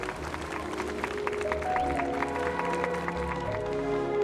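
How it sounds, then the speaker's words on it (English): Festival crowd applause in the video game Penacony, a dense continuous clapping bed under a sustained musical tone, steady and moderately loud throughout with no speech. "we invite you to express your warmest applause and deepest appreciation for"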